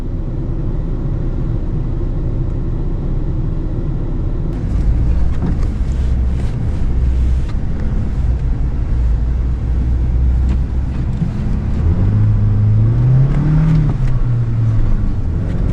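A car drives slowly on a slick, plowed snowy road, its steady low engine and tire rumble mixed with wind buffeting. The noise swells after a few seconds and a low engine hum rises and falls near the end.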